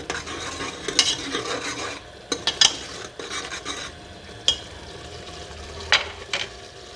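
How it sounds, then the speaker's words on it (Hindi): Beef qorma sizzles in a pan while a utensil repeatedly scrapes and stirs, giving a steady hiss broken by irregular scraping strokes. "इस तरीके से हम इसको फ्राई करेंगे।"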